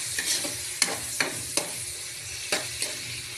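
Vinegar-seasoned sautéed ingredients being stirred in a pan for Bicol gising-gising, with soft repeated scraping strokes of the spoon over a steady light sizzle, close and alone.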